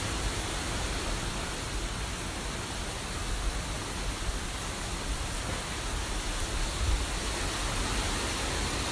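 Hurricane Irma winds roar through trees in Florida, a dense, unbroken broadband rush that holds loud and steady throughout, with no voices over it.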